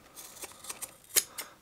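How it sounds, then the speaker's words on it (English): Normal tailoring shears snip through silicone-coated Kevlar fabric in a quick run of about six crisp, close cuts with one louder snap near the end. "should be cuttable with those normal tailoring shears"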